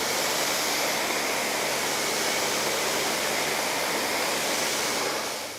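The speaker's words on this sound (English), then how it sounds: "a very thorough rinse, wring it out to get all the water out there" A detailing tool is rinsed under running water and wrung out, a loud continuous rushing gush of water close by that tapers off slightly at the end.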